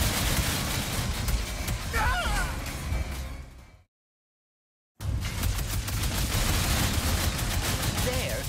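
Rapid bursts of weapon gunfire from Ratchet in the video game Ratchet & Clank: Rift Apart, loud and dense, cutting to a second of silence before the firing resumes, with a brief voice partway through.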